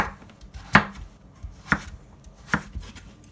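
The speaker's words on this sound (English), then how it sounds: "just cut it into small strips like this" A knife chops through butternut squash into small strips on a cutting board, three crisp, well-spaced cuts landing close and loud with no talk.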